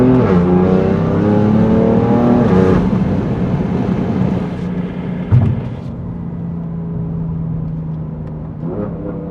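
A 2018 BMW M3 CS engine pulls hard under acceleration, its steady droning tone climbing, then dropping to a lower hum after a sharp thump of a shift, heard from inside the car.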